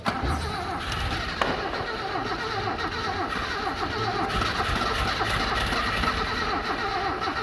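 A Toyota KE70 car engine cranking slowly and laboring, nearly catching without fully starting, a continuous close mechanical churn throughout.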